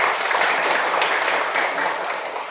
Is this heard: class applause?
yes